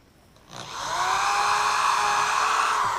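A power drill whirs up from quiet and runs at a high, steady pitch for a few seconds, close by, drilling pilot holes for screws.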